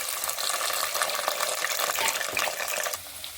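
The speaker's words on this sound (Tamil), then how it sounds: "பூண்டு நல்லா வதங்கிடுச்சுங்க" Garlic, curry leaves and green chili frying in a pan for a Tamil fish curry, a dense crackling sizzle with stirring scrapes, close and continuous before easing slightly near the end.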